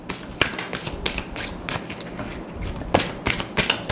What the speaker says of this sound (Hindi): मैं भी इंट्यूटिवली ही कार्ड रखूंगी शफल करके